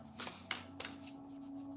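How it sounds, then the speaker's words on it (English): A deck of tarot cards shuffled by hand gives three or four quick, crisp riffling bursts close to the microphone, then a quiet low hum. "Let me shuffle these cards."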